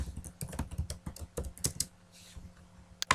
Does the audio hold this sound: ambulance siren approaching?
no